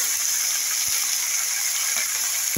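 Leafy bottle gourd greens with a pinch of turmeric hiss and sizzle loudly in a hot pan, a steady close frying roar with a few faint clinks, and no talking.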